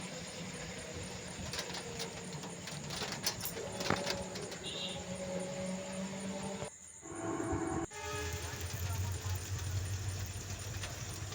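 A train rumbles past at a level crossing with the gate down, with clattering wheels and a horn sounding amid street noise; voices are heard intermittently.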